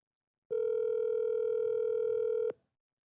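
An unanswered telephone call produces a single steady ringback tone lasting about two seconds, loud and clean, followed by silence.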